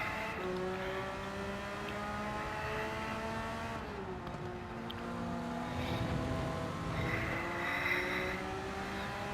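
Race car engine in a manufacturer's cup series race, a loud continuous drone with harmonic pitch lines that step down and climb again as gears drop mid-corner, another engine audible alongside.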